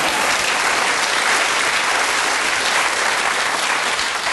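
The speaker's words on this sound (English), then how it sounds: "You could clap if you like." A studio audience at a Dickens-themed quiz show claps in a loud, continuous burst, a thick even roar of hands that stays steady from start to finish with no talk over it.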